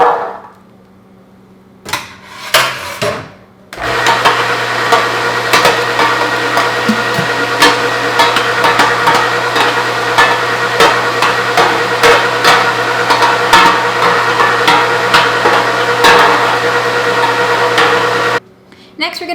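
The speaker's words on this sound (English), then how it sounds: "cooked legumes through the meat grinder" A Fabio Leonardi MR9 Italian meat grinder with a 10mm plate pushes cooked legumes through, a loud steady motor drone with low hum and scattered clicks, starting after a few brief knocks and cutting off at the end; some talk around it.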